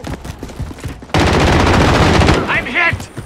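Sustained burst of automatic gunfire in Call of Duty Modern Warfare's St Petrograd Domination match, starting abruptly after quieter game noise and running loud and dense for over a second before tapering into shorter shots.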